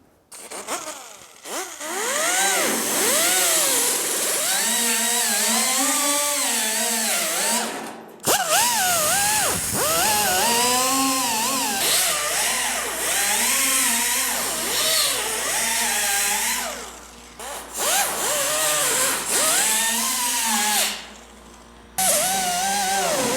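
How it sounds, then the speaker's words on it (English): A power-driven wire wheel grinds rust off a rusted window-channel area of a GTO car body panel, a loud, continuous whining drone that rises and falls in pitch under load, pausing briefly twice. "I think the first thing I want to do is hit this whole area with a wire wheel"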